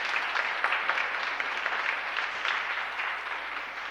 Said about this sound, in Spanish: Hay un aplauso para estos catequistas